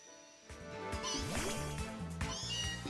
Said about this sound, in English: Oh, is it a Meowth?